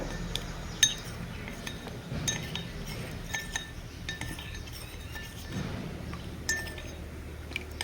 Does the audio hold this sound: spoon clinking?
yes